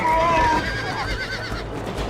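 Horse neighing in the video game Red Dead Redemption, one loud whinny in the opening half second, then a low background rumble while the sound fades out.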